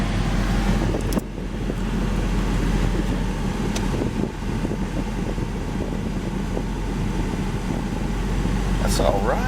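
Air conditioning blows cold air inside a 1989 Pontiac Trans Am, a steady whooshing rush of airflow with a low engine hum beneath, briefly punctuated by small clicks and bumps.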